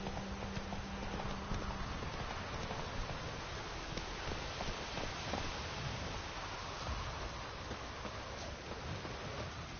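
Horse hooves gallop in a steady, continuous rhythm of clip-clops in The Witcher 3, with wind and rustling over the top and no break from start to end.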